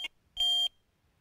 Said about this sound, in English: I had a couple of bleeps there